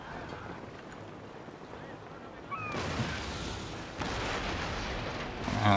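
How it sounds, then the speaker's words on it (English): Sharp musket volleys from Royal Marines in the Total War: Napoleon naval battle game, Royal Navy against Spanish ships, crackle amid dense roaring battle noise and booming gunfire, growing louder toward the end. "You can hear the little crack there. That's actually musketeers firing."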